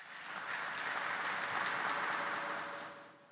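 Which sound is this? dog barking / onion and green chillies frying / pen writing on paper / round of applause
round of applause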